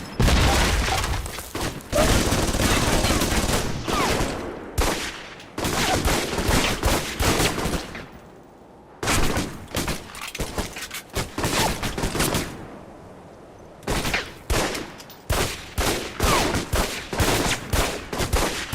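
Pistol gunfire in the Alpha Protocol video game, repeated loud rapid shots in dense bursts broken by brief pauses, close and dominant throughout with occasional quieter gaps.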